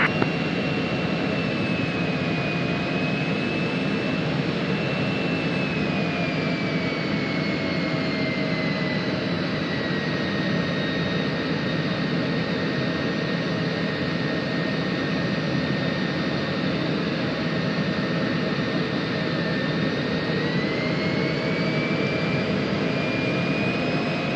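Jet aircraft engines roar continuously in a flight simulator on landing approach, a loud steady rumble with a whining tone that slowly dips and rises again as power changes.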